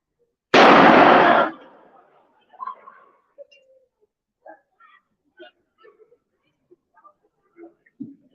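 A recorded gunshot that sounds much like a firecracker, one loud sharp blast with a brief decaying tail, followed by scattered faint sounds that may be birds in a quiet space.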